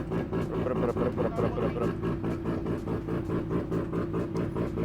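A Mazda RX-7 FD fitted with a roll cage sits with its rotary engine idling, a steady, pulsing low rumble that stays loud and even throughout.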